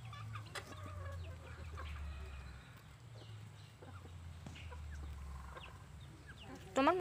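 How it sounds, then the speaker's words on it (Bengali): Chickens cluck steadily close by as they are fed rice, with soft voices talking nearby and a sharper burst of sound near the end. "মুরগিকে চাল দিচ্ছ, ভালো করে দাও"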